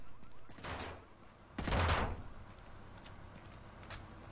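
Gunfire in Rainbow Six: Vegas: a couple of sharp shots ring out, the loudest a heavy, close report with a short tail, followed by fainter scattered pops against a low background rumble.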